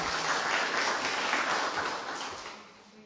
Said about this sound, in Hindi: इनके लिए जोरदार ताली हो जाए फिर से एक बार.